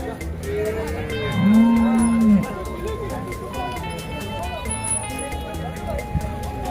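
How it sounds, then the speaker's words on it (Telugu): Cattle at an outdoor livestock market, one cow giving a loud, drawn-out moo close by, with fainter lowing around it and steady crowd chatter and market noise throughout. "ఆవులు కూడా ఉన్నాయండి సంతలో."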